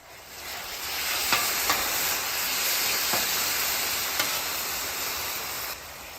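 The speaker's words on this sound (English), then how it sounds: "Now watch what happens to our steam." Cheese and fresh-cut buns steaming on a griddle produce a continuous loud hiss, with a few faint clicks and taps scattered through; no talking.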